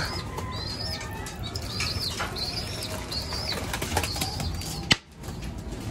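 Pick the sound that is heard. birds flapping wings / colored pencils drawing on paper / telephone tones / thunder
birds flapping wings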